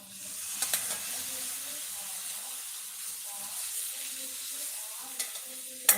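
Curd being stirred into meal maker (soya chunks) frying in a pan for a chukka fry, a soft steady sizzle with a few light spoon clinks near the start and end, no talking.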